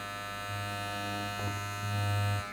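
A SUPRENT wireless hair clipper running, a steady close electric buzz with a strong low hum that swells slightly midway, brief and uninterrupted.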